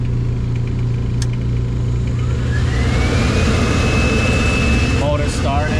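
The motor of a Laars commercial hydronic boiler with an ignition lockout fault spins up over a steady mechanical hum, its pitch rising into a sustained whine, with a short voice near the end.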